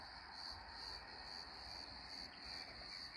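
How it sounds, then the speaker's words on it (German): Crickets chirping at night beside a railway line around Schwetzingen in the Rhein-Neckar area, a dense, continuous high trill from many insects holding steady and fairly faint throughout. "Die Grillen sind hier auch schon fleißig am Zirpen, falls das die Kamera aufnimmt"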